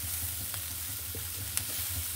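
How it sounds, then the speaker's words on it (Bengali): Spices fry in oil for a vegetarian lentil dal, a soft, steady, fairly quiet sizzle with a low hum beneath and a single faint click near the end. "আমার ভাজাটা হয়ে গেছে, দেখুন এই যে ফুটে আসছে"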